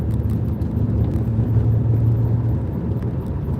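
Interior of a Hyundai Elantra rental car while driving: a close, steady low road-and-engine rumble that swells slightly midway, with no talking.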